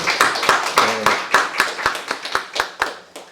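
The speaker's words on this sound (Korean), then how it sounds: "우리 박수로 한번 환영하겠습니다." A church congregation at a Sunday worship service claps in unison to welcome a newcomer, with quick, even rhythmic claps that sound close and lively and fade slightly toward the end.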